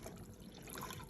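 Water pours steadily into a container of eggs being submerged to make salted eggs, a continuous close splashing fill with no talk.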